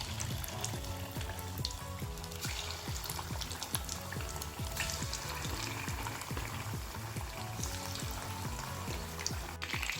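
Chicken 65 pieces fry in hot oil with a steady, dense sizzle and crackle. The sound is close and even throughout, with faint stirring noises.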